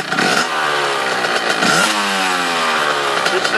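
A six-speed motorcycle revving hard in first gear in a backyard, a loud continuous engine roar whose pitch rises and dips through the clip, close by and alone.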